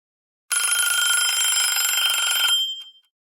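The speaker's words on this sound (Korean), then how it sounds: "그때 다시 휴대폰이 울렸습니다." A mobile phone rings with a bright, electronic tonal melody for about two seconds, clear and alone against silence, then cuts off.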